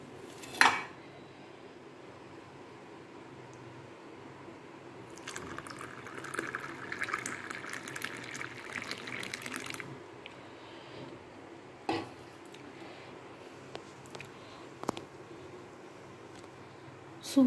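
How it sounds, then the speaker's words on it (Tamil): Coconut milk is poured into coffee sweetened with country sugar, giving a steady soft liquid stream with a few sharp clinks of a metal utensil against the vessel, close and without talking. "இப்போ இது கூட இந்த தேங்காய் பாலை ஆட் பண்ணிக்கலாம்."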